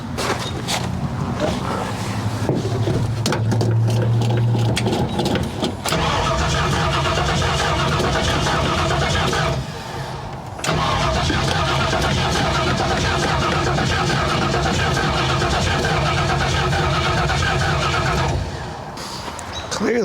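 A 1970 Ford Falcon with Trick Flow modifications cranks over on repeated start attempts without catching. Two long, loud, steady stretches of cranking are broken by a brief pause, with a short final burst near the end.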